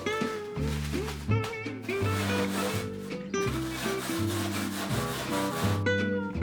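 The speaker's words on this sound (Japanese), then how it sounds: "スーパーで買ったビスケットをジップロックに入れて粉々に潰す。" Store-bought biscuits crushed to crumbs inside a Ziploc bag, crunching and rubbing under continuous music.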